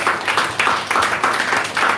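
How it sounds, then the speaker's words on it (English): A crowd claps steadily, the applause sustained and fairly loud throughout, with no talking over it. "So let's give her a round of applause."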